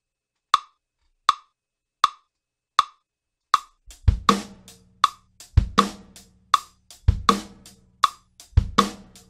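A metronome clicks steadily alone, then a kick drum joins with booming low thumps and cymbal hits in a repeating exercise pattern.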